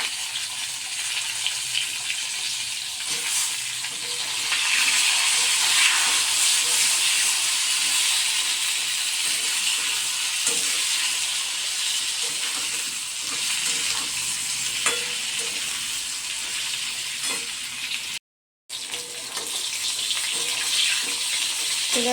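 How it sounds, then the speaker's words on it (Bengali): Eggplant pieces frying in hot oil in a small wok after potatoes, a loud continuous crackling sizzle with occasional stirring scrapes, close up throughout and cut by a brief silent gap near the end. "তো দেখো বেগুনগুলো প্রায় ভাজা ভাজা হয়েই এসেছে।"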